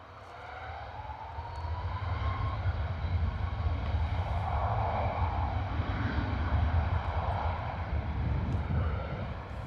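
Jet airliner departing Bristol Airport for Faro in crosswind conditions, a steady loud engine roar that swells in and holds, heard from the spotting area with no talk.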